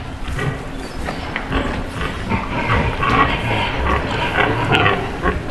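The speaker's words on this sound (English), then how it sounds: "Female pigs are called sows." Female sow pigs grunting in a farm setting, a steady stream of low, rough grunts and snorts close by, with some shuffling noise throughout.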